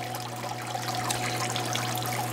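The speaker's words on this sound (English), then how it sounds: "we'll have one last look at my waterfall tank here" Water trickling steadily in an aquarium waterfall tank in a fish room, a continuous close splashing babble over a low pump-like hum, with no talk.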